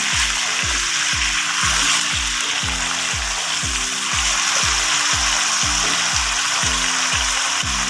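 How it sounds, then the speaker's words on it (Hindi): Potato slices fry in a pan for a Pakistani aloo dish, giving a steady close sizzle. About twenty regular low knocks of stirring and mixing repeat through the whole stretch. "तकरीबन हमने 2 मिनट के लिए पकाना है। अच्छी तरीके से इसे मिक्स कर लेना है।"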